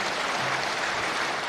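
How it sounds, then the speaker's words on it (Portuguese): A crowd at a formal session honoring 30 years of the Movimento dos Pequenos Agricultores claps for the international delegation, producing a continuous, dense wash of applause with no break and no voice over it. "Peço uma salva de palmas à delegação internacional que está aqui"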